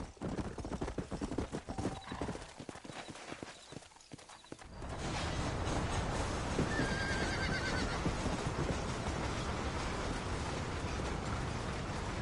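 Horse hooves clip-clop steadily in Red Dead Redemption, with a whinny early on, then a continuous, louder gallop and trotting rumble filling the rest of the stretch, close and without talk.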